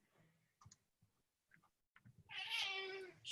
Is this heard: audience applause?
no